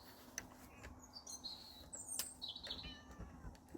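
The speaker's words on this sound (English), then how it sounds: "What are you meowing for?" A cat meows a few times outdoors, faint and intermittent over steady background noise, with bird chirps scattered through.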